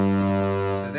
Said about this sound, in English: So I have my Yamaha PSR 500M set to voice number 75, which roughly equates to the synth strings